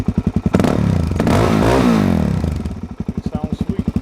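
Suzuki DRZ 400S motorcycle, 2007, with a full Yoshimura exhaust from the header back, idling with a loping thump before a strong rev that swells and falls away, then settling back to its choppy idle, close up.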